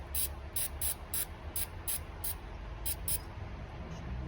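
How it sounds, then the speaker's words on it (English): Carb and choke cleaner sprayed onto the carburetor of a TC125 dirt bike, a series of about nine short, sharp aerosol bursts in quick succession, close and fairly loud over a low background rumble. "I'm just gonna give her a good old spray."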